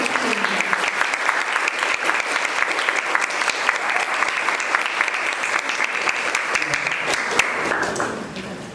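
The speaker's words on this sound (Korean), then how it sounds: "큰 박수 부탁드립니다" A hall audience bursts into loud, dense applause to welcome a lecturer at a book talk on railways, sustained for about eight seconds before tapering off at the end.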